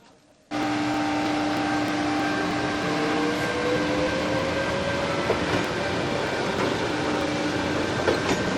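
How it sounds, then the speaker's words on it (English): A small cog railway train climbs an Alpine mountain, a loud steady mechanical rumble with a whining drive tone and faint clicks setting in sharply after a brief quiet moment, continuing unbroken nearby. "These are the cogs that help to pull the little train up, stop it from slipping back."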